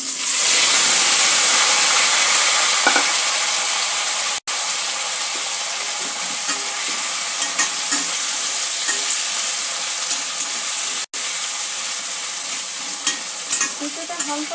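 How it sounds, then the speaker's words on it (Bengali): Papaya pieces frying lightly in hot oil with asafoetida, a loud steady sizzle with hissing steam throughout and occasional stirring scrapes, no talking. "পেঁপেটা হালকা করে একটু ভেজে নেব।"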